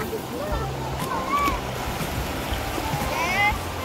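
Swift river current rushing in a broad, steady wash of water noise with occasional splashes and faint squeaks, close and continuous, no talk.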